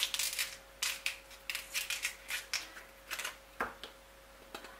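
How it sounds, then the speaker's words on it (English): Cassava skin being cut and lifted off with a kitchen knife, making a run of short, crisp scraping and snapping strokes in an irregular rhythm, close and fairly quiet with no talk. "A little bit of a cut, and then I lift up the skin with a knife."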